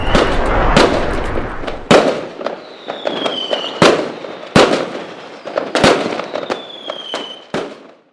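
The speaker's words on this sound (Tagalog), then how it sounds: "napuno ng ingay ng mga paputok ang kalangitan." Fireworks burst in the sky in a steady series of loud, sharp booms about once a second, each followed by crackling and whistling trails that fade between blasts.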